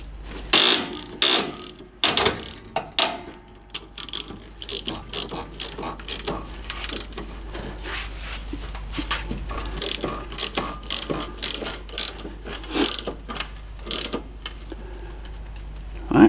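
A hand ratchet tightens a brake adjuster on a semi truck, clicking in rapid bursts of pawl ticks with brief pauses between strokes, up close.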